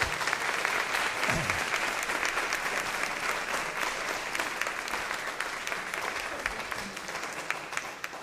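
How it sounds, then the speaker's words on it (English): Audience applause for teacher Miss Tara Parker at a school board of education meeting: steady, dense clapping from a sizable crowd that runs unbroken for the whole stretch and eases slightly toward the end. "Let's give her a big round of applause"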